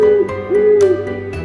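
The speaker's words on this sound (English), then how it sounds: "O for owl." An owl hoots loudly and close by: one sustained low hoot, then a second drawn-out hoot, with faint clicks between them and no voices.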